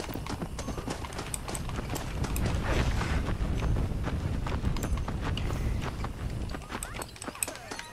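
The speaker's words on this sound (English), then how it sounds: "Where's my horse?" Horse hooves clip-clop steadily on the ground in the video game Red Dead Redemption: Undead Nightmare, a busy, continuous patter of steps with faint mechanical clatter behind it.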